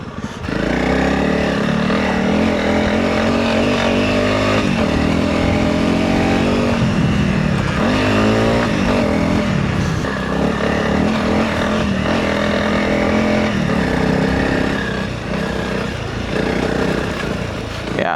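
A Honda CRF300 Rally motorcycle ridden off-road gives a loud, close engine roar that rises and falls as the throttle changes, with wind rushing past the rider.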